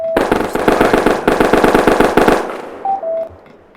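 Rapid bursts of automatic gunfire in a video game, a dense rattling stream of shots for over two seconds that cuts off, followed by a couple of short tonal beeps.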